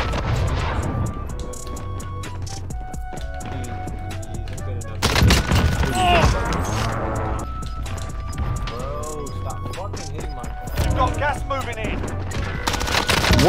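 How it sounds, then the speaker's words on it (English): Rapid bursts of small-caliber gunfire from the video game Warzone crackle throughout, loud and dense, with louder clusters midway and near the end, while players talk over the shooting. "Small caliber rounds."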